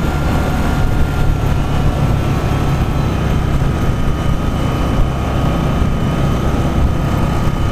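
Victory Octane motorcycle engine on a demo ride, a loud steady low rumble with broad roaring noise that holds continuously and evenly throughout, with no voices over it.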